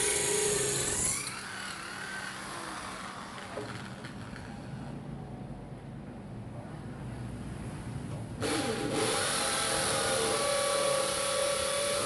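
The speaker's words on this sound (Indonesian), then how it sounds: "Ini adalah pengeboran yang kedua pada beton." A Nagawa HDN6013 13mm impact drill bores into concrete with a loud, gritty hammering whine that runs the whole stretch, easing slightly mid-way before surging harder again toward the end; no one speaks.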